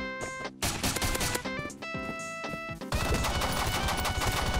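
Rapid, loud shotgun blasts in a browser-based Call of Duty-style shooter, several sharp shots close together followed by a denser burst of gunfire and crashing, with no talk over it.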